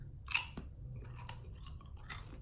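Kettle-style potato chips are chewed up close, with sharp crunches and bites repeating irregularly over a quiet background.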